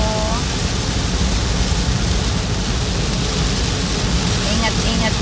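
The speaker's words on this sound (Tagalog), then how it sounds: "Kasi grabe po ang ulan." Heavy rain pouring outdoors onto a road, a loud dense continuous hiss filling the scene without letup, with a faint voice briefly audible beneath it.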